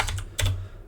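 A computer keyboard is typed on at close range, giving a couple of quick bursts of crisp keystrokes with a short pause between them.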